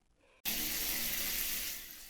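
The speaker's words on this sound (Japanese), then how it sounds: "シャワーを浴びてすっきりしました。" Steady broadband rush of running water, like a shower spraying, bursts on after a brief quiet moment and continues loud and even, tapering slightly toward the end; no voices.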